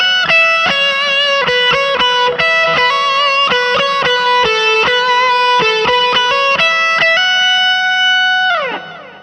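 Electric guitar played through a ZOOM G1 FOUR multi-effects unit with reverb, a run of plucked notes and chords in a steady rhythm, loud and close, ending on a sustained note that trails off.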